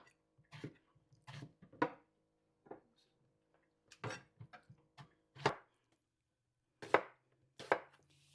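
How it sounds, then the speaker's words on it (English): Knife chopping onions on a board for an Indian Jamaican salt fish and garden egg potato dish, heard as a run of irregular sharp, close chops with short pauses between them. "I'm cutting up some onions to put in my pot"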